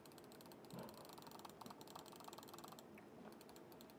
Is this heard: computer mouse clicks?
yes